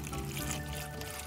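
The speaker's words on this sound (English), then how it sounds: "Pour some water." Water is poured into a pot to steam tamales over a fire in Belize, a soft continuous splashing trickle close by with no talk over it.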